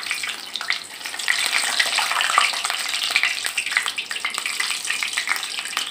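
Gulab jamun frying in hot ghee: a steady, dense crackling sizzle with bubbly spits, close and fairly loud, continuous throughout and with no talking.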